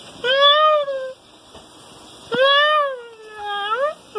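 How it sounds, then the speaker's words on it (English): A cat meows twice up close, each meow long and drawn out and rising then falling in pitch, with a quieter third meow near the end and no talking. "I told her to sit and meow."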